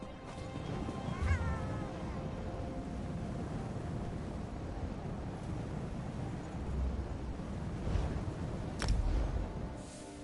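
A cat meows in Elder Scrolls Online, with a few short calls near the start and end that sit over a steady bed of game ambience and background noise.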